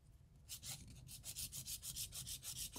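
Builder gel nails are filed with a hand file in quick, regular back-and-forth rasping strokes, about a dozen, close and faint, after a short quiet start.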